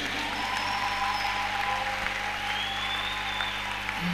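A church congregation applauds during a sermon, a dense, even patter of clapping from many hands that carries on for a few seconds under a faint steady hum.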